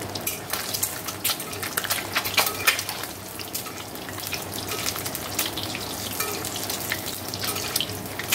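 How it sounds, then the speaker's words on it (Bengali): Potatoes fry in a pan on a home kitchen stove, a close crackling sizzle with irregular bursts of spattering and stirring clatter over several seconds, with no talking. "দেখো আলুগুলো ভেজে নিচ্ছি"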